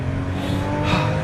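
A 2013 Porsche Boxster S with its tires squealing while it slides around a figure 8 track, a loud, continuous skid over engine noise that rises near the end.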